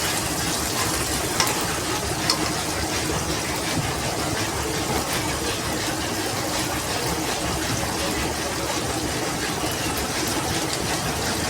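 Tomato masala for an eggplant kuzhambu being sautéed in a pan, a dense, even sizzling hiss that holds steady throughout at moderate loudness, close by and without speech.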